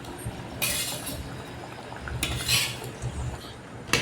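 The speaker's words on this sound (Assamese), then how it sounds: "এইপিনে মাছখিনি দি দিয়া হ'ল।" Fish pieces added to a bubbling curry in a wok, with a low simmering bed under two bright clusters of metal utensil clinks and scraping.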